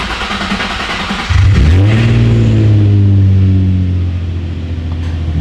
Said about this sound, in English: we'll try to start it up and see if everything's good to go